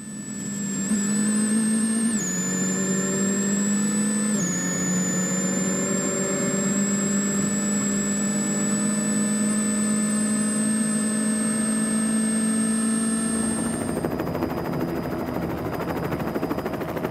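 Rally car engine at Rallye Monte Carlo 2014, loud and continuous, its tone holding high with a couple of sudden shifts as it works through a sliding section, then turning rougher and noisier near the end.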